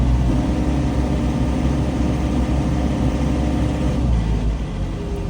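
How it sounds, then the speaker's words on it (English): A SANY SY50U mini excavator engine held at maximum throttle, a loud, steady diesel roar with a low rumble that eases slightly near the end. "You'll be able to hear in just a second and watch how, as I turn the throttle up to max"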